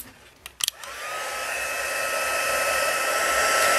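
A heat tool switches on after a couple of taps, then blows a steady, rising airy whoosh while melting silver embossing powder on a Christmas card.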